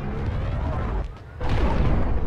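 Loud, dense booming bursts from cannons in Arma 3, continuous except for a short lull midway, then resuming at full strength, with a voice speaking over them.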